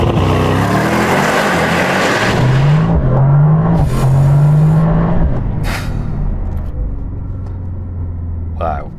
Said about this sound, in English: Okay, let's launch this thing, see what I'll do 0 to 60.